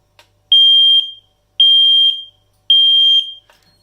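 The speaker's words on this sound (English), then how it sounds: "I'm going to go test the carbon monoxide wireless one" A wireless carbon monoxide alarm under test sounds three loud, piercing half-second beeps, evenly spaced about a second apart, close and alone with brief clicks before and after.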